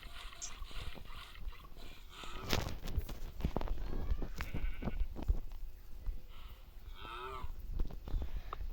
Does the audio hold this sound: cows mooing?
yes